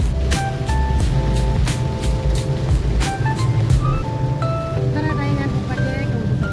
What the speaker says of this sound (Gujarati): એટલો બધો વરસાદ છે ને, કશું બિલકુલ દેખાતું નથી